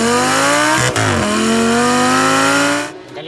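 Audi R8 fitted with an Akrapovič exhaust revs hard, a loud, close, sustained engine roar that dips briefly, climbs again in pitch and then drops off sharply at the end.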